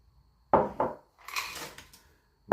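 Two sharp clunks as honey-sweet candy ingredients go into a metal saucepan, then a soft rustling pour, and a final knock, all close by with no talking.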